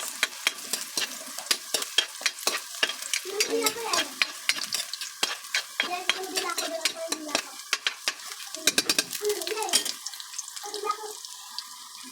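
Garlic frying in a pan as it turns golden brown, the first step of a squid adobo in coconut milk; close, steady crackling sizzle broken by repeated clinks and scrapes of a utensil against the pan.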